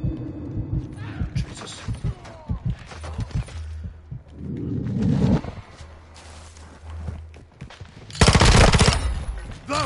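Bursts of machine gun fire and gunshots in a first-person shooter video game, rattling in short volleys with a loud dense burst near the end, under a voice talking over the game.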